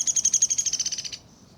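Songbird in a park, a single close, clear trill of about fifteen rapid, evenly spaced high notes that slows slightly before stopping, then quiet.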